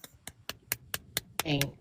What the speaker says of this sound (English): Clap it up for tea time